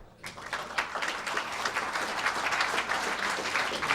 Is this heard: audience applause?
yes